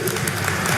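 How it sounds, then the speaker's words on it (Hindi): Audience applause at a project inauguration event in Chandigarh attended by India's Home Minister, a brief burst of dense crowd clapping filling the hall, steady and loud throughout with no voices over it. "एक बार जोर से ताली बजाइए"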